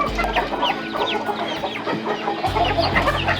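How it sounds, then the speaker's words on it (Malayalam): Young Fayoumi chickens, an Egyptian breed about four to five months old, cluck in a coop. Overlapping close calls and short chirps repeat in a busy, irregular chatter, and a low rumble joins partway through. "ഈ കാണുന്ന ഈജിപ്ഷ്യൻ ബ്രീഡായ ഫയോമിയാണ് ഈ തൊട്ട് താഴെ കാണുന്നത്"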